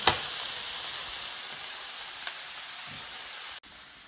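Frozen mixed vegetables sauté in a pan with a steady, close sizzling hiss that holds evenly throughout, broken by a faint clink near the start and a brief dip near the end.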